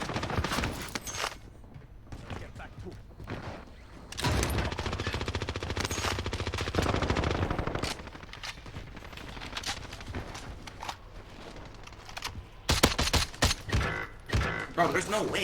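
DMR rifle fire in a video game crackles as rapid, sharp shots in bursts, with layered gunfire and clattering footsteps and mechanisms, while a person talks over the action.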